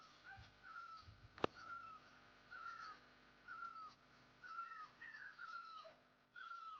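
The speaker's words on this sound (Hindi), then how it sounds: "पहाड़ों में आपको सुरीली पक्षियों की आवाज़ सुनाई देगी, मीठी मीठी सी" Birds caw repeatedly in the mountains near Ganoli village, a steady series of short, hoarse calls spaced about a second apart, fairly distant and soft, with one sharp knock early on.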